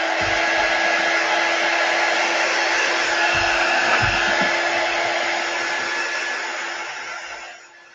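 A hair dryer blows steadily on a chalk transfer, a loud, close, continuous whirring hiss that holds for several seconds before winding down at the end, with no talking.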